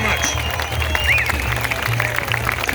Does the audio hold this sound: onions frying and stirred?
no